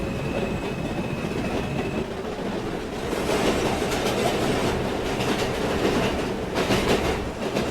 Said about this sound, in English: This is a counterclockwise A train